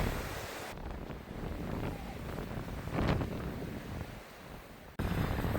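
Strong wind near Arisaig, Scotland, buffets a nearby microphone with a steady broadband roar, surging in gusts, with no voices.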